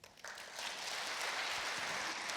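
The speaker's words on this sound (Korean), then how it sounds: "하나님께 박수, 감사 박수 드리겠습니다" Church congregation applauding during a Sunday worship service, a steady broad clapping that swells after a brief start and holds loud and even, with no voices over it.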